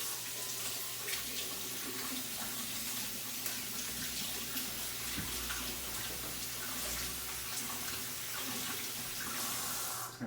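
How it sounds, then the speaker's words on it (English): Tap water runs steadily into a sink while hands are washed beneath it, a continuous close splashing rush with no talk. "Wash my hands off."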